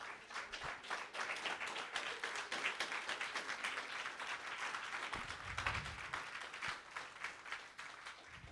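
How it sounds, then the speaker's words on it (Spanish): Congregation clapping for the Lord during a Spanish-language sermon, fairly faint and distant, with rhythmic hand claps over a low murmur. "Dar un aplauso al Señor"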